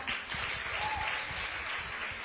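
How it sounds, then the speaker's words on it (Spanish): Churchgoers at a sermon by Maite Tavárez applaud in praise of the Lord, a soft, dense patter of clapping that holds steady and sounds somewhat distant. "Denle un aplauso fuerte al Señor"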